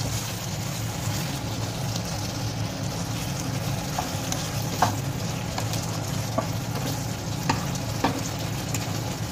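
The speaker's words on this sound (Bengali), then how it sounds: "এবার ধীরে ধীরে এটাকে নাড়তে থাকবো। এইভাবে আমি ধীরে ধীরে কষতে থাকবো।" Chicken curry with raw mango sizzles steadily in hot oil in a pan while being slowly stirred and sautéed, with soft scraping clicks of the spatula recurring every second or so over a continuous frying hiss.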